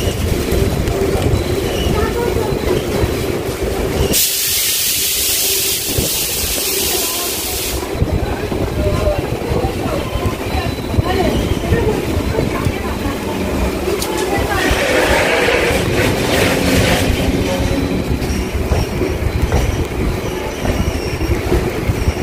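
A Kolkata local train pulls out of Majerhat station, its wheels rumbling and clacking steadily up close with a stretch of bright hissing and squeal, while someone talks over the running noise.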